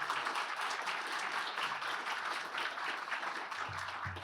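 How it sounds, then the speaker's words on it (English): Steady applause from a crowd, a dense continuous wash of clapping that holds at an even level throughout. "let's give you a round of applause"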